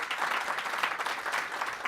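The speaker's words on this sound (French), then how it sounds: "Je vous inviterai à applaudir chaleureusement notre panélistes qui ont fait un travail remarquable" An audience claps warmly for the panelists at the close of an energy panel, a steady, dense round of applause lasting throughout without any talk.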